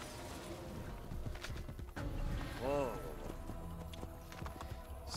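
Horse hooves clip-clop at a gallop in the video game Assassin's Creed Brotherhood, a steady rhythmic pounding with a brief neigh midway, under someone talking throughout.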